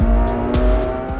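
McLaren 720S and BMW F90 M5 development cars lapping a test circuit, a loud engine drone close by with a steady tonal whine and tire noise, no voices.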